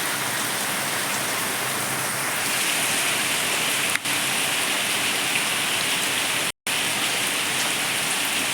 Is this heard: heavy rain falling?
yes